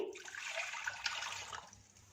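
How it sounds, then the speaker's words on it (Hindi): Water pours steadily into a cooking pan holding tamarind, a broad continuous splashing rush that trails off near the end, with no talking. "इसमें 400 ml 2 छोटे गिलास पानी शामिल कर देंगे।"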